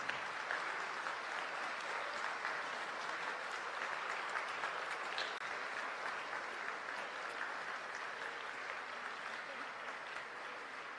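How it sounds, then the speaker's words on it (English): A temple audience applauds the chanters, a dense, steady round of clapping that holds at an even level throughout. "Let's give all of the chanters a rousing round of applause"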